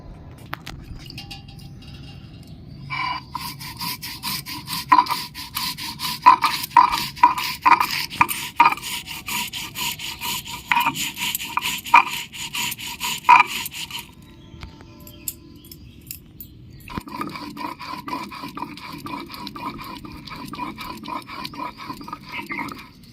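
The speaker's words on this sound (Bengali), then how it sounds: "বন্ধুরা আমি পোস্ত আর কাঁচা লঙ্কা বেটে নিচ্ছি" Poppy seeds and green chilies ground by hand on a grinding stone, a rhythmic scraping and rasping with repeated strokes, close and clear, pausing briefly before resuming.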